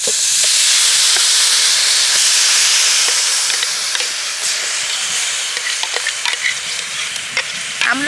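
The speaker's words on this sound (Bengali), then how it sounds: "পেস্ট করে রাখা আমলকিটা প্রথমে আমি কড়াইতে দিয়ে দিচ্ছি" A steady, loud sizzle and hiss of wet amla (Indian gooseberry) paste frying in a pan, with scattered crackles and pops, close and continuous.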